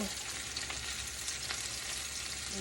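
Leafy greens frying in a pan with turmeric and salt, a steady loud sizzle with faint stirring scrapes throughout, close and continuous, with no talking.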